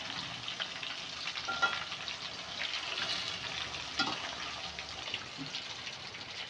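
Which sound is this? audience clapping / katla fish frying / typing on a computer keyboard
katla fish frying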